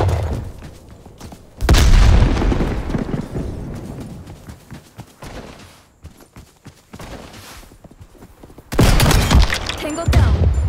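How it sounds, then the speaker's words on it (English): A grenade goes off in the video game Call of Duty: Cold War, a heavy boom with a long rumbling tail, followed later by a second loud burst, amid quieter battlefield noise and footsteps. "Throwing grenade."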